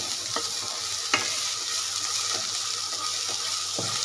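Onion frying in a pan, a steady close sizzle with a few light scraping stirs and taps, no voices.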